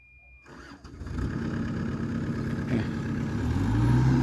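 An engine cranks briefly and catches right away, settling into a steady idle that holds and swells slightly louder toward the end, close by with no talking.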